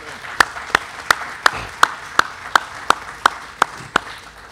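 A single person clapping in slow, evenly spaced hand claps, about a dozen crisp strikes close by, with faint room noise between them.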